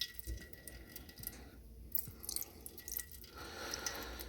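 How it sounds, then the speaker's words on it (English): Water and fuel drip slowly from a draining fuel filter on a 1948 Chevy truck that sat for 30 years, giving faint, sparse drips and small splats at an irregular pace in a quiet space. "I'm going to let that filter drain for a little bit"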